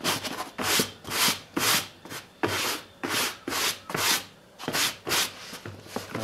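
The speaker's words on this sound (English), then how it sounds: "let's see what we can get off from the Slouch Hat just by using the stiff or the coarse brush" A stiff, coarse brush scrubs an old felt slouch hat in rhythmic back-and-forth strokes, about a dozen close, loud scratchy rubs with short pauses between them, no talking.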